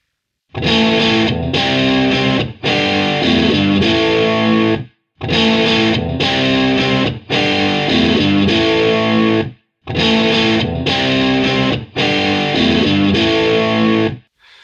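Heavily distorted electric guitar chugging loud chords through a BluGuitar AMP1 amplifier, played in three repeated phrases separated by short pauses.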